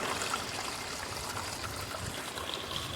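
Water running steadily through the riffles of a sluice box as material is washed, a continuous close trickling and splashing stream with no voices.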